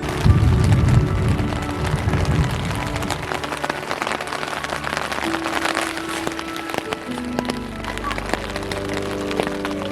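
Heavy rain pattering on a tent overhead while camping in Colorado, a dense crackling patter with a low rumble early on, fairly loud and steady.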